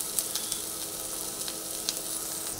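Onion frying in a pan, with a bright hissing sizzle that holds steady throughout, dotted with small pops and crackles, close by and without any talking.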